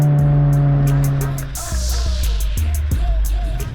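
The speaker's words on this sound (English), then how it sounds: "I still keep it in Sport Plus because I love all the crackles and pops out the exhaust." A 2024 Acura Integra Type S in Sport Plus mode drones steadily, then, after lifting off, its exhaust lets out a few sharp crackles and pops over a lower burbling engine note, close and loud.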